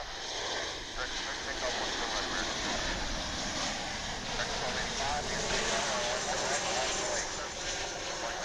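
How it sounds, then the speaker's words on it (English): An American Airlines airliner lands at DFW airport, arriving from Salt Lake City, Utah, its broad, steady engine roar and rushing noise filling the whole stretch at constant loudness, with no one speaking. "That was American Flight 1214 coming in from Salt Lake City,"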